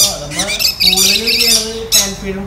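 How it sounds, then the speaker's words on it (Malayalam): Pet birds of various colours, including African species, squawk loudly in harsh, harmonic bursts that follow one another closely, with a brief pause near the end. "1, 2, 3, 4, 5, 6 കിളികളൊക്കെ ഉണ്ട്. അതും പല കളറിലുള്ള കിളികളാണ്."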